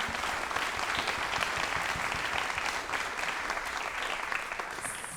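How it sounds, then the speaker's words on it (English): A concert audience at a trombone recital bursts into loud, sustained applause, dense clapping filling the room steadily throughout and easing only slightly at the end. "you need a round of applause for that"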